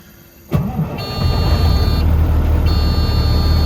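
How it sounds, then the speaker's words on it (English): A cabover truck's ignition is switched on while its air system is low on pressure, giving a sudden start and then a steady low rumble with a high warning buzz that cuts in and out over it. "So I'm gonna turn the key. It's gonna make a buzzing noise because it might have enough air."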